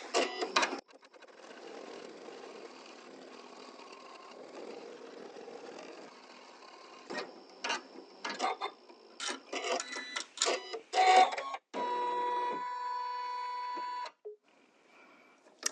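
An embroidery machine runs a placement stitch for a double-layer appliqué, giving a close, steady mechanical whir broken by short bursts and pauses, then a sustained humming stretch near the end.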